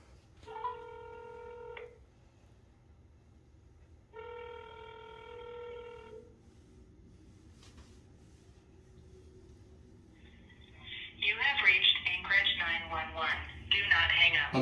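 A phone dials the police: two long tonal beeps spaced apart, then quieter ringing and a burst of busy, chattering tones near the end, with a faint hum underneath.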